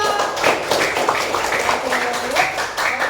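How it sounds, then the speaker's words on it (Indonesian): Students in a junior high school PE class applaud a group of classmates with quick, irregular clapping that continues throughout, while voices chatter underneath. "Tepuk tangan dulu buat kelompok 2"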